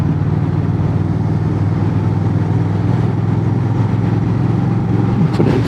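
An 1100cc motorcycle rumbles along under way with a steady low engine drone and wind noise, loud and continuous, the pitch rising slightly near the end as the engine pulls harder.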